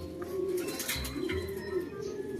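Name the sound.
racing pigeon cooing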